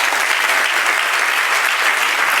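A church congregation at an evening service bursts into loud, dense, sustained applause, a thick wash of clapping that stays even and unbroken from start to finish.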